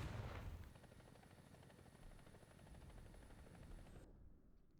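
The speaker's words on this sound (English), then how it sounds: "That was a helicopter, that one was." Helicopter in War Thunder, heard as a steady, dense rotor thrum and broadband engine rumble over faint background noise, ending abruptly with a thin high whine cutting out.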